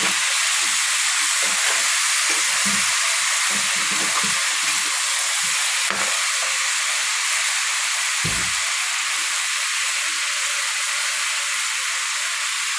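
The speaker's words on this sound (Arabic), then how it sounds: "ادينا الخضار تشويحه يا حبايبي اهو مع الفراخ" Vegetables and chicken stir-frying in a hot pan give a loud, continuous close sizzle and hiss, with a few brief stirring scrapes and no voices.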